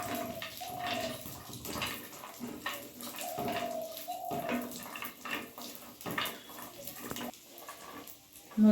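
Cashews and raisins fry in homemade ghee on a nonstick pan over a gas flame, a steady close sizzle and crackle with scattered pops and small clinks throughout, and no talking.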